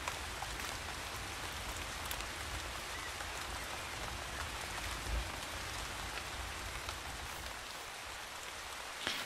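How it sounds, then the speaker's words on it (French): Rain falls in Backwoods Town, a dense continuous hiss of drops on surfaces, steady and fairly close throughout, with occasional louder splashes. "ah, il pleut"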